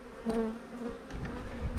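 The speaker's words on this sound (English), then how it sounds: "Look at those bees in there." A close, dense hum of many honey bees buzzing together in an open hive, a steady droning swarm with slight rises and wavering pitch.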